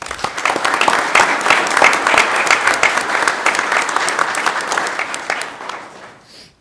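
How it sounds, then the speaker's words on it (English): A school board meeting audience applauds the teaching staff, with dense, steady clapping that holds strong for about six seconds before thinning and fading out at the end. "Let's give them a round of applause."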